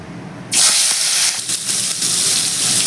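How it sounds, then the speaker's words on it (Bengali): Prawns drop into hot mustard oil in a wok on a gas stove and burst into a loud, steady hiss and crackle of frying that continues without a break. "প্রথমে আমি চিংড়ি মাছটাকে ভেজে নিচ্ছি"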